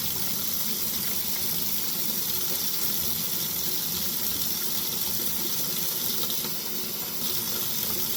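Tap water runs steadily into a sink while model car bodies are being stripped of paint, a constant close hiss and splash with no pauses and no voices.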